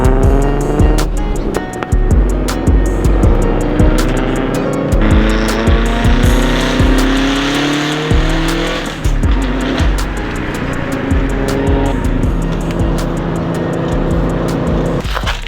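Loud Subaru with an exhaust modified to be as loud as possible, revving hard with repeated rising engine sweeps and tire squeal, close and continuous, no talk.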